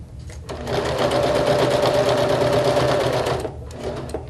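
A sewing machine runs in one steady, loud burst of about three seconds, stitching up a fabric compartment, close by with a rapid rhythmic clatter and brief quiet before and after.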